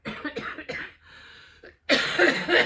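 Several harsh, close coughs in quick bursts, a short pause with a faint breath, then a longer raspy cough.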